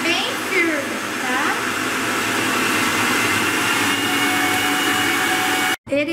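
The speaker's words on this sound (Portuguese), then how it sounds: "Em seguida, nós vamos colocar na batedeira e bater." An electric stand mixer whips meringue mixture with a steady, loud, high-pitched motor whir that runs almost without a break. It cuts out briefly near the end.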